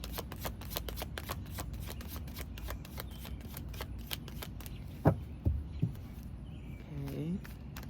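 Rapid papery riffling of tarot cards being shuffled, a steady run of crisp flicks followed by a few soft taps and a brief low murmur.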